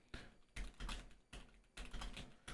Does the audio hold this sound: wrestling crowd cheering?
no